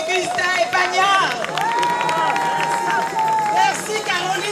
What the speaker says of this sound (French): Alors je voudrais que vous applaudissez, que vous acclamez Augustin Epagna.